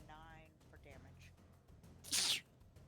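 A single sharp sneeze bursts out near the end, brief and loud against quiet background murmurs and faint voice-like tones earlier on.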